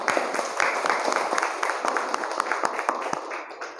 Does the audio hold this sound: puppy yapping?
no